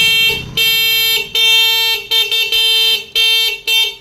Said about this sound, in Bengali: গাড়ির হর্নটাই লাগিয়ে দিয়েছি